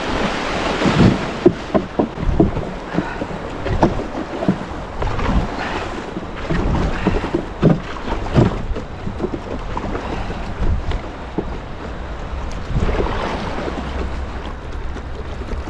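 A punt drifting backwards down a series of river rapids, with steady rushing, splashing water and wind buffeting the microphone close by, surging louder in spots throughout.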